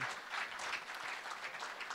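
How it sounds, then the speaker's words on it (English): An audience gives a round of applause for Alyssa: steady, dense clapping from many hands, sustained evenly for the full two seconds without talk. "Can we just give a round of applause to Alyssa for being behind all of that?"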